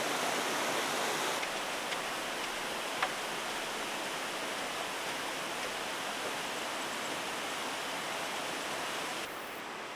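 River water rushes steadily through the rocky shut-ins at Johnson's Shut-Ins, a close, loud, continuous broadband roar that stays even throughout with no voices.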